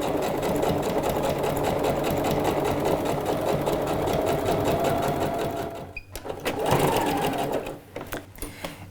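A sewing machine topstitches trousers, running in a fast steady chatter close by, then pausing briefly for a few backstitches before starting forward again with short bursts.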